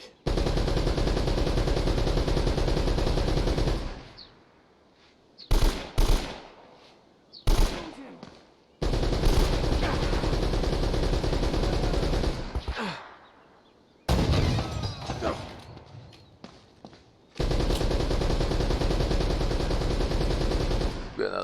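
Uzi and pistol gunfire in Uncharted: Drake's Fortune comes in loud, dense sustained bursts of rapid shots, separated by brief quieter gaps with scattered single reports and debris noise.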